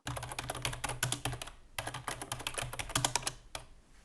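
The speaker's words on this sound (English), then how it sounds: "I started typing." Fast typing on a computer keyboard, close and clear, with rapid uneven key clacks in bursts and brief pauses between them.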